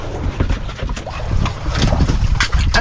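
Strong wind roars and gusts against the microphone, a loud, rough rumble with flapping bursts throughout.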